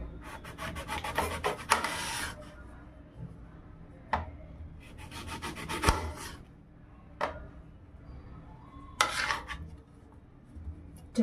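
A knife cutting through a firm guava, with rasping, scraping strokes in several bursts separated by sharp knocks on a board, close and fairly quiet with no talk.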